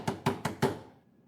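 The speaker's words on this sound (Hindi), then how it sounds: "कब से ठोक रही हूं मैं।" Four sharp knocks on a door in a house, evenly spaced and fairly close, with the last one slightly louder, then quiet.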